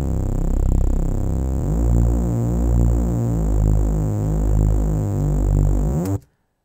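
Saw bass synth run through EQ, a bit crusher and a soft clipper growls thick and saturated, with a noisy high sheen and a slow wobbling sweep, playing alone for about six seconds before ending abruptly.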